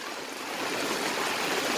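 Heavy rain pours and swollen floodwater rushes past at Vengad town, a steady, dense wash of water noise close by and unbroken, with no voices.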